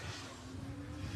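A Nissan R32 drift car at a UK drift championship qualifying round at Teesside revs hard through the gears, a loud, steady engine drone from start to finish.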